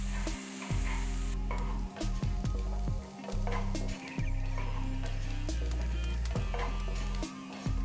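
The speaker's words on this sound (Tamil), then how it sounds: "இதெல்லாம் போட்ட பிறகு வெங்காயத்தை நல்லா வதக்கணும்" Onions with chopped ginger and green chillies sautéing in a hot pan, a loud, steady sizzle broken by repeated stirring scrapes and clatters, with no talking.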